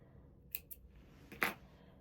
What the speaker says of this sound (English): I'm going to snip that end, clean it up